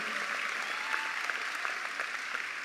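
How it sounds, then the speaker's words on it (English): Applause from a crowd at a high school graduation ceremony, a constant, even roar of many hands clapping heard from a distance, fairly soft and steady throughout with no talking over it. "Give yourself a round of applause."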